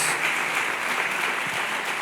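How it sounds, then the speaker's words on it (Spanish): Congregation at a Christian sermon breaking into loud, sustained applause, a dense continuous wash of many hands with no voices over it. "¿Cuántos le dan un fuerte aplauso al Señor?"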